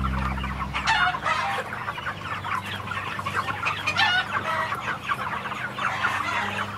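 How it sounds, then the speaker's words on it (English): Chickens cluck and chatter in a loose flock on a pasture-raised poultry farm, with overlapping calls and a steady low background hum. "So we're standing in Greg's pasture-raised chicken operation."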